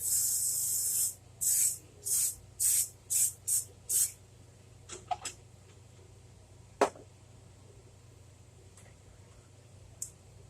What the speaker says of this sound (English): I'm going to spray my skillet.